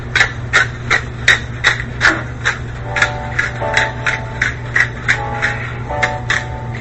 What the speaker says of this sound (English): And some pepper. Cracked pepper. Little grinder going.